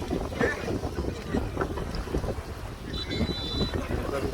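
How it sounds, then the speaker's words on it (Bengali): A large river boat pulls away from the bank on the Brahmaputra, its low engine throb mixed with gusty wind buffeting the microphone, fairly quiet overall. "নৌকা পাড় থেকে রওনা হচ্ছে।"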